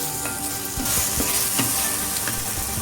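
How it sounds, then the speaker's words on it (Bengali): Prawns sizzle loudly in spice paste for chingri malai curry while being stirred, a dense continuous frying hiss with occasional scraping knocks, close and without speech. "এটাও মশলার সাথে ভালো করে কষিয়ে নেব"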